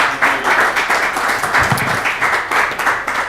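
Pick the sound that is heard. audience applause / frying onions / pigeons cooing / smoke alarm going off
audience applause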